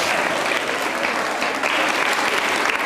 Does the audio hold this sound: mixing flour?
no